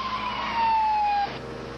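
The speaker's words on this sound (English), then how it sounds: "An ambulance en route to a non-emergency call was immediately redirected to pick up Reed." An ambulance siren wails briefly, one sustained steady tone over road and engine noise before it cuts off, fairly loud and close.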